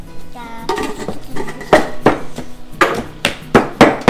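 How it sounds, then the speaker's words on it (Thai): Garlic and chili are pounded in a mortar for som tam, with sharp, uneven thuds and clacks of pestle on the mortar ringing close by, broken by brief pauses and a voice speaking early on. "ขบกระเทียมได้ที่แล้วค่ะตามด้วยพริกเลยค่ะ"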